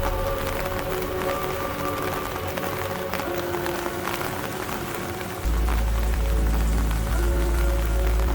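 Rain falls on the misty, wet Donington Park Grand Prix circuit in April 1993, a steady broadband hiss with a low hum beneath that thickens and grows louder partway through, with no talking.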